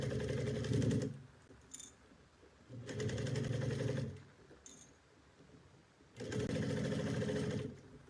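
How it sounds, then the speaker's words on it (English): A sewing machine stitching a bucket bag runs in three steady whirring bursts of about a second or more each, separated by quiet pauses, close and fairly soft. "And then we can get to sewing the bag."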